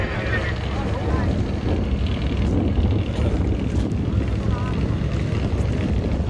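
A 7-litre Ford turbo V8 off-road car at a Formula Offroad event roars up a slope in the distance, a rough engine drone mixed with wind buffeting, while a commentator talks over it.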